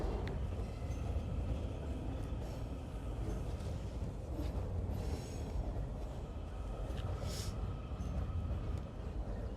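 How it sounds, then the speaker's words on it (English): A train rolls past a wooded roadside camp in Suitland, Maryland, a steady broadband rumble and hiss that holds at moderate distance for several seconds without a break. "the fucking train."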